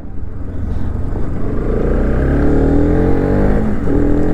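A Kawasaki Ninja ZX-6R sport bike pulls away after refuelling, its engine loud and close, the revs climbing steadily in pitch as it accelerates off.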